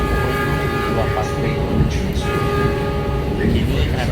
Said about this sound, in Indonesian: Kini keretanya sudah mulai berjalan cukup kencang di Petak Semarang Poncol Jerakah ya.